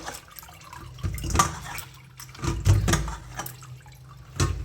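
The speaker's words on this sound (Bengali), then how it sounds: "এরকম করে সেদ্ধ করে জলটা ফেলে নেবে" Cooking water drained off boiled bottle gourd leaves, heard as a few uneven splashing pours and gushes of liquid close by, fairly loud against quiet gaps, with no speech.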